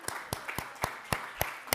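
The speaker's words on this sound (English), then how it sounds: "If we can clap for you." A small audience at a Grameen family gathering claps for the photographer, about eight sharp, separate claps at a loose, uneven pace, fairly faint and with no voices over them.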